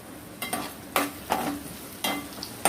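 Green chillies and onion pieces fry in a pan after fenugreek seeds, for a home-style fish curry. A soft steady sizzle runs underneath, while a spoon stirs and scrapes in regular bursts about every half second, close by, with no talking.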